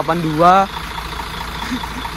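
A Mercedes-Benz Jetbus 3 intercity coach sits idling with a steady, even low rumble, briefly covered by a voice at the start and then heard alone.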